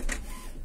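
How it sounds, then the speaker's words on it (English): An HP Smart Tank 515 inkjet printer initializing after an E3 error fix, giving a short, quiet mechanical whir with a brief higher buzz at the start, close by and alone. "printer initializing smoothly"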